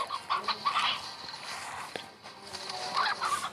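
Chickens cluck in short bursts in the video game Slime Rancher over a soft background hum, with a few brief clicks scattered between the calls.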